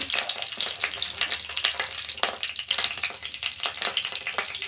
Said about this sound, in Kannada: ಈಗ ನಾವು ಮೊದಲನೇದಾಗಿ ಇದಕ್ಕೆ ಕರಿಬೇವನ್ನು ಹಾಕ್ಕೊಳ್ಳೋಣ ಆನಂತರ ಬೀನ್ಸ್ನ